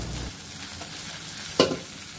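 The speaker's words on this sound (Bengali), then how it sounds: "ততক্ষণ এটাকে নাড়তে থাকতে হবে যাতে তলায় লেগে না যায়" Green chili mash cooking in a pan, stirred with a soft scraping hiss and faint sizzle, then one brief sharper scrape of the spoon against the pan.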